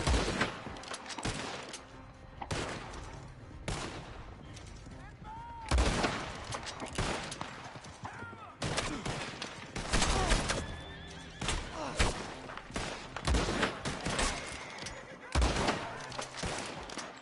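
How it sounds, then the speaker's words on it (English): Rapid bursts of gunfire crackle in clusters over a busy, noisy mix in the video game Red Dead Online, with sharp thuds scattered throughout. "I saw gunfire from over there."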